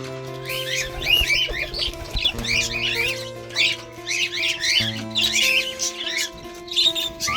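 Pigeons chirp and coo in busy repeated calls over soft background music, close and fairly loud.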